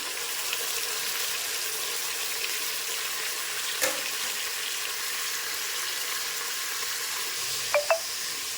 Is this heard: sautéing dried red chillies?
yes